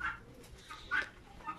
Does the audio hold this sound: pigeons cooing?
yes